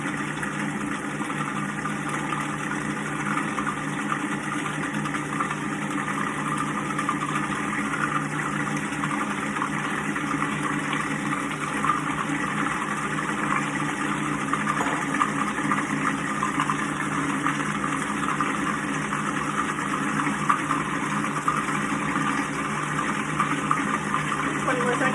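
A blender motor whirs steadily while mixing homemade mayonnaise as oil is poured in, a continuous close droning hum with a gushing, liquid churn whose tone shifts slightly as the mixture thickens.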